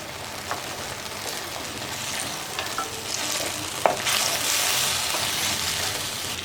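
Chicken pieces frying in oil in a pan, with a steady broadband sizzle throughout that grows louder and denser in the second half, and a few faint clicks of stirring.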